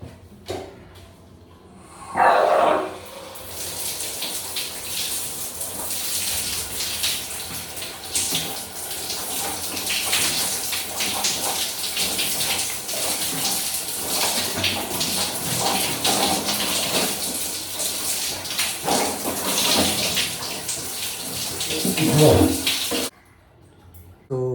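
Steady broadband rush of running water from a tap filling a bath in a home bathroom, continuous for about twenty seconds with brief clatters at the start and end.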